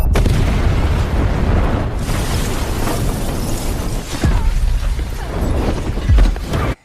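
A bomb explosion in a film: a loud, sustained roar of blast and rumbling debris fills the clip, with a fresh surge of booming near the end before it cuts off.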